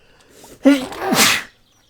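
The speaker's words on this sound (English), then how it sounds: "Sudden sneeze." One sudden sneeze up close: a brief sharp intake followed by a loud breathy burst, then silence.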